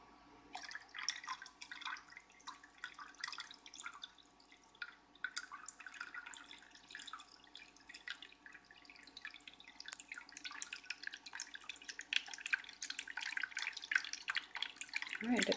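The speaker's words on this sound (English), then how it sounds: "the technology should push the water out the spout" Water trickles and drips out of the spout of a toy fish cleaning tank as it drains, a faint, irregular patter of droplets and small splashes that continues throughout.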